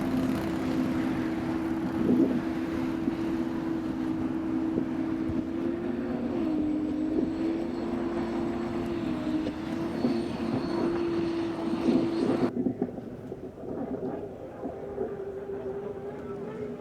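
A hydroplane racing boat with a Lycoming aircraft engine, the U-96 American Dream, drones steadily at a distance on a race course, a continuous engine hum that holds for the whole stretch before the sound abruptly thins.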